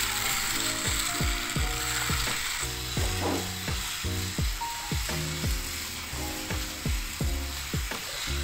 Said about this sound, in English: And then I have this spool cutting machine.